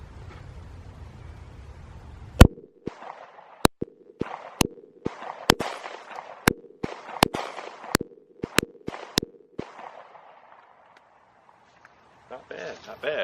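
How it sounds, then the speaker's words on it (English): Handgun shots at an outdoor shooting range, about a dozen sharp, loud cracks in quick, slightly uneven succession, each with a short ringing tail, followed by quiet and a faint voice at the end. "Just working on trigger control, holding the gun properly"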